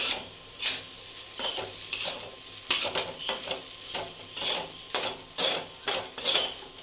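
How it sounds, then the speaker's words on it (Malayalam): Clam meat frying in a pan in a home kitchen, stirred with a utensil: repeated scraping and clattering strokes over a soft background sizzle, close and moderately loud, in an irregular rhythm. "ഇനി നമ്മളത് ഇളക്കി ഇങ്ങനെ തുവരാൻ ഇട്ട് കൊടുക്കണം."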